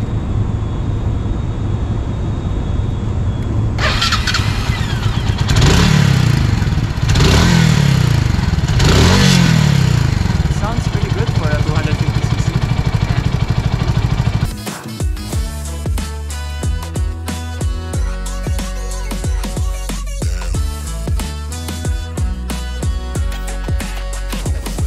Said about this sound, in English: Let's test the engine.